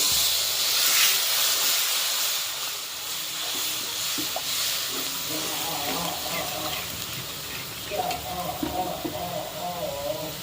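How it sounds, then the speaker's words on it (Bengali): Water poured into a hot pan of chicken kofta masala to make gravy sets off a loud, broad hiss and steamy bubbling that continues throughout, close and steady, with a brief burst of louder bubbling near the end. "এবারে গ্রেভির জন্য দিয়ে দেব পরিমাণ মতো জল"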